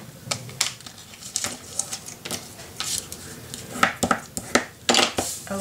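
Paper being cut by hand for a trifold scrapbook mini album, heard as a series of crisp, irregular snips and clicks, close and fairly quiet, with no one speaking.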